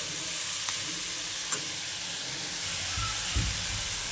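Black pepper and cloves dry-roast in a pan with a faint, steady hiss and a few soft stirring scrapes and light clicks, close but quiet.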